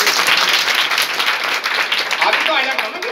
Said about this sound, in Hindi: ताली बजाओ इस बच्चे को।